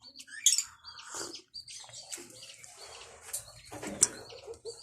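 Green opaline pet birds in a cage give sharp chirps and soft calls, with rustling and faint wing movement, close and intermittent.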